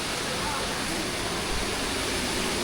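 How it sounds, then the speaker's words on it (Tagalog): A river stream flows beside a hiking trail on the Laiban trek, giving a loud, steady rush of water that fills the whole moment without a break. "Napakaganda ng ilog."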